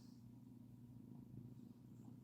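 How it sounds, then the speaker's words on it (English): A cat purring softly and very close, a continuous low rumbling hum that rises and falls steadily, faint and without talk over it. "And she's purring."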